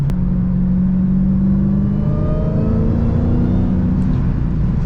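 A supercharged Dodge Hellcat engine revs loudly and close, a deep steady rumble with rising harmonic whine sweeping upward through the clip, continuous with no voices.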